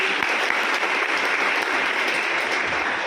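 An audience claps at an annual prize distribution ceremony: dense, steady applause that stays loud and even from start to finish.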